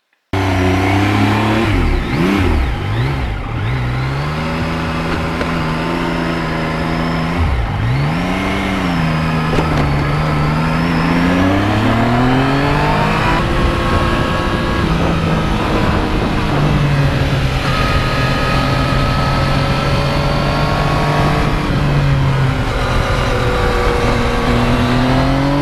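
Yamaha MT-09 three-cylinder motorcycle riding on an open road, its engine loud and close, revving up and down through gears with repeated rising pulls and steady cruising stretches.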